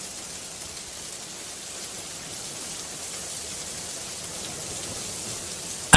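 Cartoon rain falls in an even, soft hiss of steady drops, continuous and fairly quiet, ending with a brief sharp tap.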